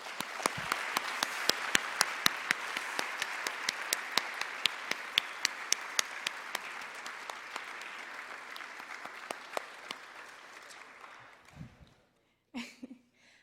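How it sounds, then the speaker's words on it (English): Steady applause from an audience fills the room, with a few sharp, louder claps standing out, before it tapers off and a voice begins. "Let's give him one more round of applause, guys."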